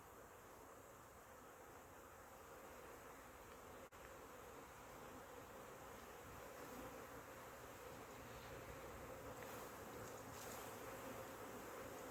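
A continuous hum of many buzzing honey bees at their hive fills the air, steady and close, with no talking.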